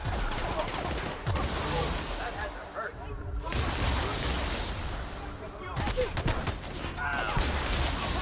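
Gunfire in a video game: rapid bursts of shots and heavy fusillades in loud clusters, separated by two brief near-silent gaps, with a voice speaking over parts of it.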